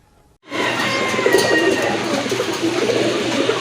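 A Lal Ghora fancy pigeon coos at a fancy pigeon sale, the soft cooing starting after a brief silence and continuing close over steady background noise.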